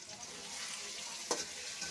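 Cumin, coriander and dry chili powder fry in a pan, giving a steady close sizzle with a brief stirring scrape partway through and no talking.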